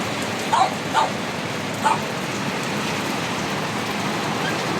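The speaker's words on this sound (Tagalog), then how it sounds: "napakalakas ng ulan" Steady, dense hiss of heavy rain pouring throughout, with a few short dog barks cutting through early on.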